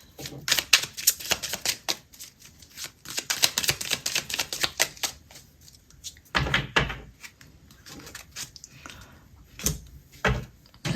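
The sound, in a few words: shuffling and drawing cards from an astrology deck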